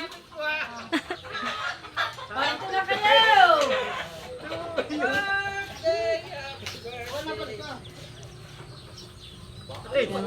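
Chickens cluck and squawk nearby while people talk over and between the calls.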